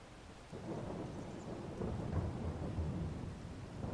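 Steady rain and rolling thunder fill a rainy day in the farming video game Farming Simulator 22, a continuous low rumble swelling after the first half second, with no voices.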